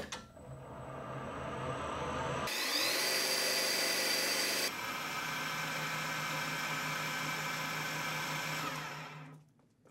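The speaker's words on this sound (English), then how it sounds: "I'm gonna go ahead and shift my lathe here into slow gear and we'll put it in forward and get going." Metal lathe running in slow forward gear while tapping a thread, a steady mechanical whine and hum that shifts to a brighter, harsher tone midway, then settles into a continuous drone before stopping.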